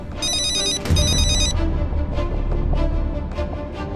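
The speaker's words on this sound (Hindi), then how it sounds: "फोन उठाओ बेटा, फोन उठाओ डेनिस बेटा।" A telephone rings with a bright, repeating electronic tone in two bursts, over a steady low background hum and faint clatter.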